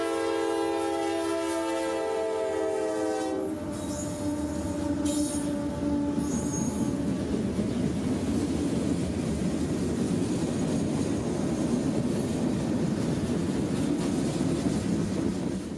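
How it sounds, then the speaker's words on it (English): A train horn sounds briefly at the start, then a long southbound freight train rounding a corner near Lakeland Junction rumbles steadily past close by, wheels squealing and cars clattering continuously. "rounding the corner southbound approaching Lakeland Junction"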